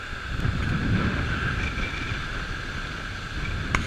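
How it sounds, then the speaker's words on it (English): Steady, strong wind roars across a microphone on a mountain trail in Challis National Forest, Idaho, a continuous broadband rush with slight gusty swells and no voices. "This wind just really picked up strong."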